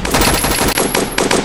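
Rapid automatic gunfire in a Roblox video game, loud and continuous bursts of shots filling the whole moment with only slight dips between volleys.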